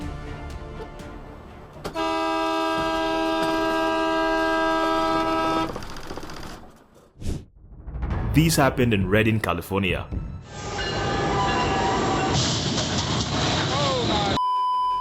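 Train horn sounding loudly at a railroad crossing in Redding, California, as a train passes; long sustained blasts come twice with rumbling noise and people talking and exclaiming between them.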